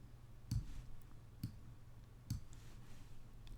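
A computer mouse gives three crisp, quiet clicks, evenly spaced almost a second apart, against a low steady hum, with no talking.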